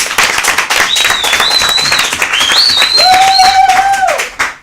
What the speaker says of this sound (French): on peut l'applaudir puisque nous sommes en public ici.